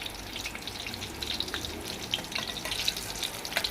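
Sour brinjal curry frying in a pan over medium heat, giving a soft, steady close sizzle with a few sharper spits and crackles throughout.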